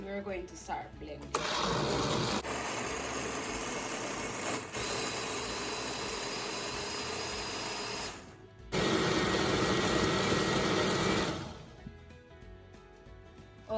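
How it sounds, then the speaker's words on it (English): Kitchen blender mixing coconut milk for a healthy breakfast, a loud continuous whirring motor in two long runs with a brief stop between, then quieter afterward. "and we're going to start blending."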